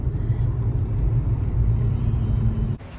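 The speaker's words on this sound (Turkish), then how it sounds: "Bu da çok merak ettiğiniz üzere İstanbul trafiğimiz" Istanbul road traffic heard from inside a car on the way to a shopping mall, a steady low engine and road rumble that drops away abruptly near the end.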